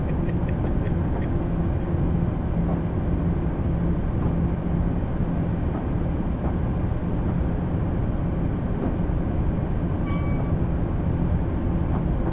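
A passenger train in motion, heard from inside the carriage: a continuous low rumble with steady rhythmic clatter and faint squeaks and creaks.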